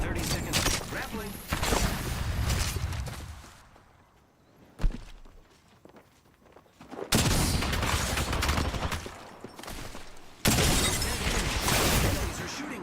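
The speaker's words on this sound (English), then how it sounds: "Enemies are shooting at me." Enemy gunfire in a shooter video game, dense bursts of rapid shots in long loud stretches broken by a quieter lull with a single sharp crack, with talk running underneath.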